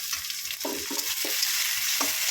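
Onions, green chillies and tomato fry with a steady sizzle in a pan, and a spoon scrapes and stirs them several times at close range.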